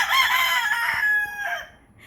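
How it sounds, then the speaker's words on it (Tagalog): A rooster crows nearby, loud and drawn out over about two seconds before fading, with no talking over it. "Hi, chicken!"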